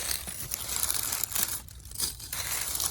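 Old, ragged hellebore leaves being snipped and pulled away in an early spring garden, giving close, dry crinkling and rustling with a few crisp cuts and tearing sounds, no voices.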